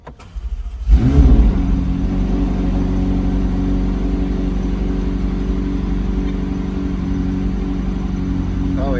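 A 2024 McLaren 750S supercar engine cranks and catches with a loud burst, then settles into a strong, steady idle rumble close by, with a faint voice near the end.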